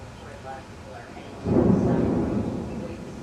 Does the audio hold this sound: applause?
no